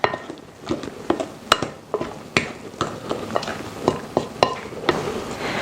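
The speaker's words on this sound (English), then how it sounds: "I'm going to take these almonds and we're just going to stir them in last" Almonds being stirred into a flourless chocolate torte batter in a bowl, with repeated scraping and clinking of a utensil against the dish at an uneven rhythm, close and moderately loud, with no talking.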